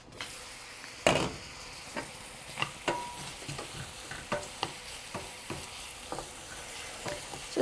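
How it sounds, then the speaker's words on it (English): Onions and tomatoes fry in a pan for vegetable rolls and are stirred with a utensil. Soft sizzling runs throughout, with irregular scraping knocks from the stirring, close and fairly quiet. "So I will stir it in and fold the tomatoes so they're being coated"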